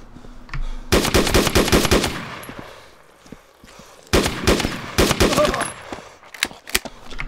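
Rapid automatic gunfire in a video game, two loud bursts of crackling shots separated by a quieter gap, followed by a few scattered single shots.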